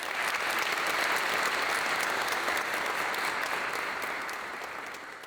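Sustained applause from an audience at a White Coat Ceremony for the Faculty of Medicine in English in Targu Mures, even dense clapping that fades slightly toward the end.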